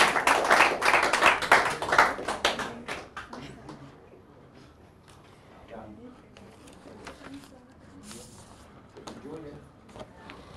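A few participants of a youth skills session clap for about three seconds, close and uneven, then soft scattered taps and background voices carry on.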